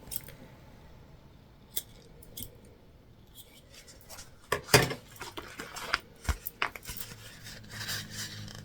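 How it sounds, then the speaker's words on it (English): Scissors snip into the center of a fabric side panel, a cluster of close, crisp cuts and clicks after some quiet handling and rustling of the material. "We're just going to make a little snip."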